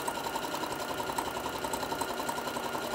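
A sewing machine runs a straight stitch on a fabric bowl koozie, a fast, even mechanical whir and rattle that holds steady and unbroken throughout.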